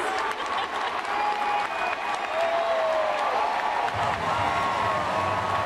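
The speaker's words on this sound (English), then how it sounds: "The crowd's going crazy." A large baseball stadium crowd at a Phillies game cheers and applauds steadily, a loud, dense wash of clapping and shouts that continues throughout.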